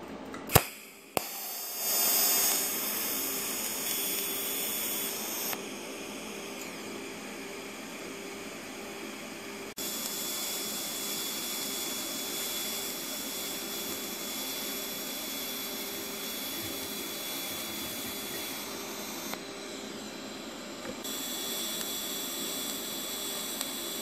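Steady arc welding on steel V blocks at around 100 to 150 amps gives a continuous loud crackling hiss that runs for over twenty seconds, with small shifts in tone and brief pops at the start.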